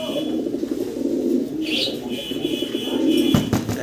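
Pigeons from a pair of fancy pigeons coo in soft, repeated low murmurs, held steady through the clip with a brief higher chirp midway, close by and without talk.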